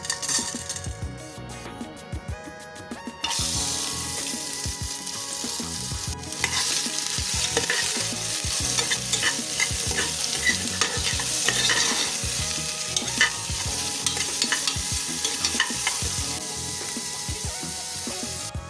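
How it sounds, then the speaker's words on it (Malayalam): Whole spices and sliced onions frying in ghee for ghee rice, with a loud, continuous sizzle that swells after a few seconds as ingredients go in, and scattered spoon scrapes and clinks against the pan, close and free of speech. "നമ്മുടെ എടുത്ത് വെച്ച സ്പൈസസ് ആഡ് ചെയ്യാം."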